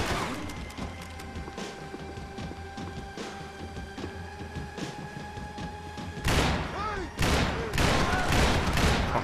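Gunfire in Max Payne 3: a run of sharp shots over a steady game backdrop, then louder, heavier bursts near the end, all close and forceful.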